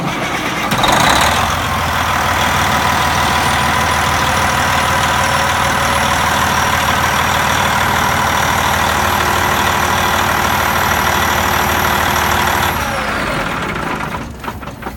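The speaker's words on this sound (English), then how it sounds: "let me see if I can start the truck" A truck engine cranks and catches during a pre-trip inspection, then settles into a loud, steady, close idle with a rumbling drone that lasts until it cuts off near the end.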